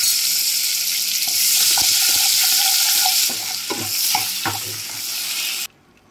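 Butter melting and sizzling in leftover oil previously used to fry paneer, a steady close hiss with light stirring clicks, ending abruptly.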